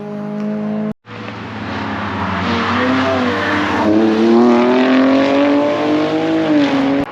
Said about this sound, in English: The E92 sound.